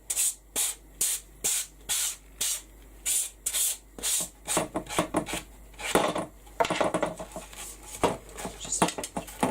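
A sanding block is worked lightly over a wooden box frame in a series of short, rhythmic rasping strokes, close and clear, with the strokes turning quicker and more irregular toward the end.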